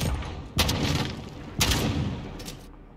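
Gunfire from a Call of Duty Modern Warfare match, with two sharp blasts about a second apart, each followed by a noisy rumbling tail over steady game background.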